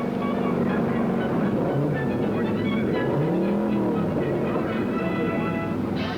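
A 1955 Ford Thunderbird roars past on a measured-mile speed run, a steady engine drone with a rising and falling pitch as it passes, set against continuous background noise.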